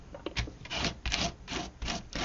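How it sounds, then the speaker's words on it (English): Glitter paste spread across an art journal page with a palette knife or tool, heard as close, repeated gritty scraping strokes in an uneven rhythm, with no talking. "And you can hear the glitter basically in the background."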